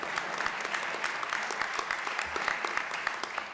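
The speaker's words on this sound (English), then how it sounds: "Let's give him a round of applause anyway" An audience at a State of the City address applauds steadily, a dense, sustained patter of many hands clapping at moderate distance.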